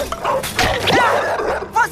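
Cartoon puppies bark and yip in short, loud, high-pitched bursts close by, with some whimpering yelps in between.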